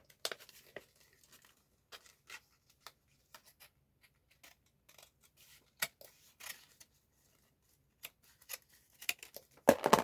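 Scissors cut paper while DIY envelopes are made, with sparse, quiet snips and crinkles separated by near-silent gaps and a louder burst of rustling at the very end.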